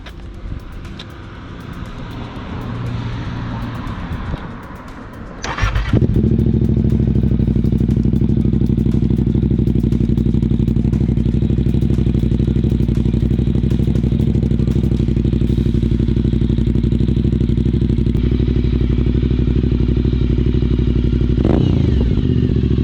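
A fully warmed-up Aprilia Shiver 900 motorcycle engine starts and settles into a steady, loud, close idle with a deep rumble, running on without pause and without talk.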